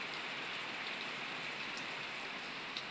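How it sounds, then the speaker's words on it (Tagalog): Heavy, steady rain pours down continuously during a typhoon under overcast skies, a dense hiss of drops with no voices. "makulimlim at saka malakas yung ulan kasi may bagyo"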